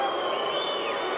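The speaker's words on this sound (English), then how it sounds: "loudly booing at what's going on right now." Boxing arena crowd booing at a bout, a loud sustained wash of massed voices filling the venue throughout, no individual speech standing out.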